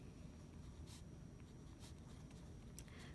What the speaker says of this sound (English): I'm going to write them down here.